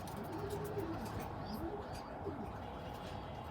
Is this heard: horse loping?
no